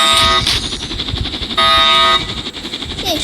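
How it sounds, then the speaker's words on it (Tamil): A loud electronic alarm sounds in a Roblox prison escape game. It comes as blaring, horn-like tonal bursts, one near the start and another mid-clip, with game noise between. "அலாரம் அடிச்சுனே இருக்கு."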